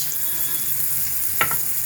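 Steady frying sizzle as shrimp fry in a pan, a constant hiss with a brief clatter of utensils near the end; no talking.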